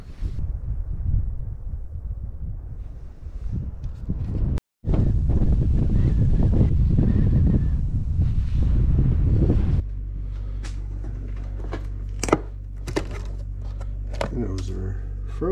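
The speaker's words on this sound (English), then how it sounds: "it's a little windy outside" Wind gusts over a frozen river during ice fishing, buffeting the microphone in loud, rough rumbles that drop away abruptly partway through, and a voice talks at times beneath the noise.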